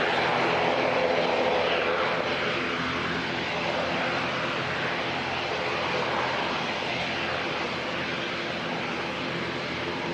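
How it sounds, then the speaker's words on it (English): Chatham Islands ATR turboprop aircraft at Auckland Airport, a loud continuous engine roar with a droning propeller hum, sustained and fairly close with no talk. "That's the Chatham's ATR making all that racket."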